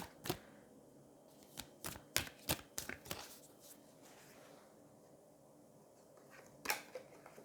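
Tarot cards are drawn and shuffled from a deck in a quiet room, a series of sharp, close papery snaps and flicks clustered together, then a pause and one more crisp flick.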